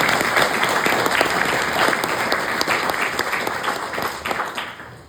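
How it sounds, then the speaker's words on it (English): An audience applauds city staff at a mayor's annual Christmas address, a full round of many hands clapping, strong at first and slowly tapering over five seconds. "Would you please give them a round of applause?"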